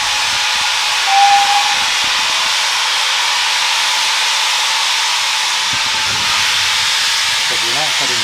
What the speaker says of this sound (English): Yeah, we're surrounded by steam. It looks like fog, but no, it's definitely steam.